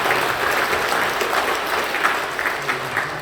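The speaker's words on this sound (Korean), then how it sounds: "박수해 주시죠." A church congregation claps in welcome during a Korean Full Gospel church anniversary service, a warm rolling burst of many hands that swells briefly then slowly tapers.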